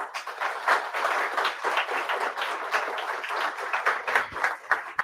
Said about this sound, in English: Round hand applause, please.